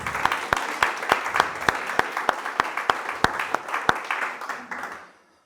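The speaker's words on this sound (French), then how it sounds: "Alors quand on rencontre Jésus, on peut applaudir Jésus?" A church congregation applauds, its claps spreading into a dense wash punctuated by several sharp, louder individual claps nearby, then fading out over about five seconds.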